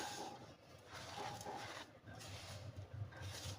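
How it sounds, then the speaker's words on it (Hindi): Flour and sugar being mixed by hand for a Memoni sweet, a soft, steady rubbing and rasping texture that runs throughout at low level, with no talking. "और इसे हमने फ़ौरन हल्के हल्के हाथों से मिक्स करना है।"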